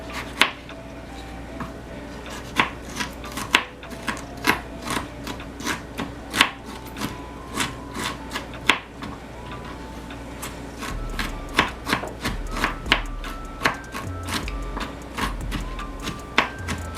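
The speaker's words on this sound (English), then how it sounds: "you can grate this or chop it into pieces" A knife chops an ingredient on a board for a weight loss tea, with rapid, irregular close taps running through the whole stretch and a few low thuds near the end.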